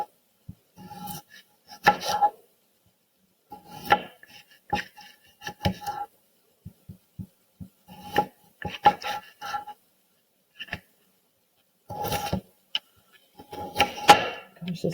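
A kitchen knife slicing through potatoes on a board, heard as scattered clusters of crisp cuts, taps and scrapes separated by short silences, close by and moderately loud.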